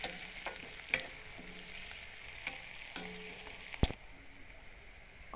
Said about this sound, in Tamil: கருவேப்பிலை சேர்த்து நல்லா வதக்கிட்டு